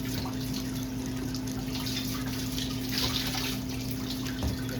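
Water runs steadily from a tap into a container, filling to about 900 millilitres, a continuous splashing rush with no voices.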